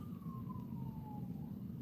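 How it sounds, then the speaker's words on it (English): A faint, distant siren wails in a single slowly falling tone over a low rumble of traffic. "You hear that siren?"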